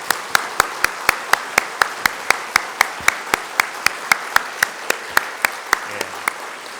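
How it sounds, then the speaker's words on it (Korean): A church congregation on Christmas Day claps in unison, about twenty sharp, evenly spaced claps in a steady rhythm, loud and close, with slight fading near the end. "다시 한번 박수 치겠습니다."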